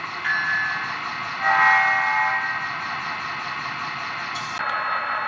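A ScaleTrains HO scale CSX SD40-3 model locomotive sounds its horn in two sustained tonal blasts over a steady mechanical hum, close and fairly loud.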